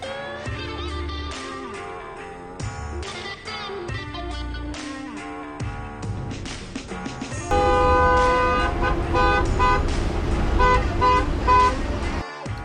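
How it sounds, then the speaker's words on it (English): Car horns honk repeatedly in a long queue of traffic at the Montenegro border, sustained toots overlapping one another and growing louder and denser in the second half. "An endless line of cars, narrow winding roads, and plenty of honking."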